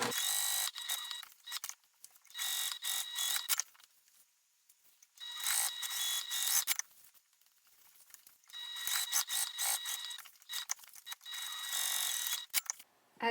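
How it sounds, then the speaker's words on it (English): A sewing machine top stitching the seam of a tote bag, running in fast, even bursts of rapid mechanical clatter. Three main runs are separated by quiet pauses, and the sound is close and fairly soft with no talk. "top stitch down both sides"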